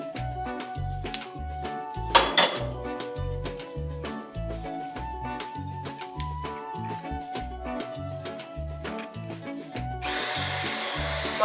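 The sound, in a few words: hand blender mixing chocolate and biscuits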